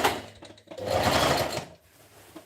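Sewing machine stitching a half-inch seam, a close mechanical whir that starts briefly, then runs in a loud steady burst before stopping with a few soft clicks.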